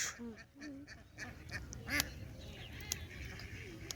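Ducks quack repeatedly at close range, short nasal calls coming in quick, uneven bursts over a low background murmur.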